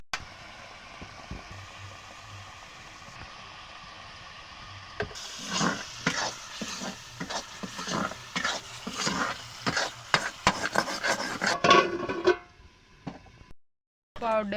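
Potatoes and paneer with spices being stirred in a frying pan: a spoon scrapes the pan in repeated brisk strokes over a soft sizzle, getting louder and busier partway through.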